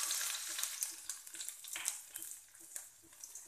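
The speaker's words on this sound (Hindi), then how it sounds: "तेल गर्म हो चुका है, गैस का फ्लेम थोड़ा सिम पे कर दे और सबसे पहले लहसुन डालें।" Garlic sizzles in hot oil in a pan on a gas flame turned down to low, a soft steady frying hiss with faint scraping from stirring and no voice.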